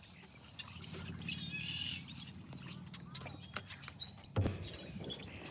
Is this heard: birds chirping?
yes